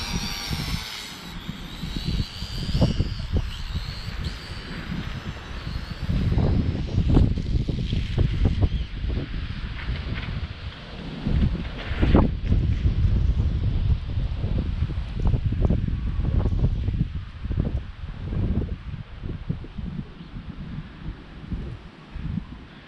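Small Eachine E520 drone on a maiden test flight in wet, windy weather, heard as a steady motor whine under heavy gusting wind noise and rustle throughout, with louder buffeting bursts.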